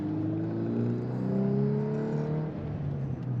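A 2024 Volkswagen Golf R with a manual gearbox driving around town, its engine humming and rising steadily in pitch under acceleration, then easing off, heard from inside the cabin at moderate loudness.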